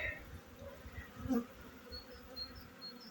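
Faint, continuous buzzing of honey bees flying around an apiary hive in a cold spring, with a few individual bees droning past closer over a low outdoor background.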